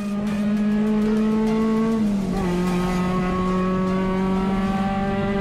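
A Honda Civic touring race car at speed on a track, a loud close engine whine holding high revs, dipping briefly at a shift, then climbing again with no tire squeal evident.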